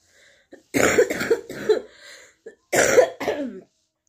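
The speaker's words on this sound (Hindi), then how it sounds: "मैं अचानक मेरा खांसी उठ गया है" A person coughs hard in two close bursts of several rapid coughs each, separated by a short pause, loud and near.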